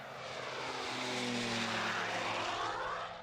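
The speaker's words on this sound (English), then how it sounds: "the South African teens saw their plane fly for the first time." A small propeller airplane built by South African teenagers flies past on its maiden flight, its steady engine drone swelling as it nears and holding loud before easing slightly, heard alone without voices.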